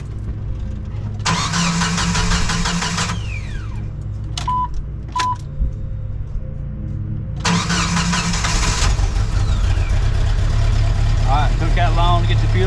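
A 1997 Jeep Wrangler engine cranks in two long bursts after a fuel pump repair, with a couple of short clicks in between. The second attempt catches and the engine settles into a steady idle, loud and close.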